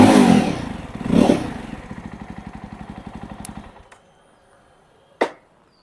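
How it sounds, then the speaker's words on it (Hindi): A Jawa 350 motorcycle in neutral cranks and fires, then settles into a steady, even thumping idle for a few seconds before the engine cuts off. A single sharp click follows in the quiet. "इसका इंजन को फायर करते हैं। ये न्यूट्रल पोजीशन में कुछ इस तरीके से साउंड करती है। थोड़ा सा रेव देते हैं।"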